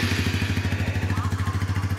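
Suzuki GSX-S125 motorcycle engine running just after starting, a steady close idle with a rapid regular low thump, loud and alone.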